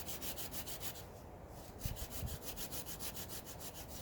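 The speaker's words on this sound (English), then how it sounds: "So obviously I'm using my trusty Baho Laplander 396 saw." A Bahco Laplander 396 folding saw cuts through wood outdoors, its steady back-and-forth strokes rasping in a regular rhythm, close and fairly loud with no talking.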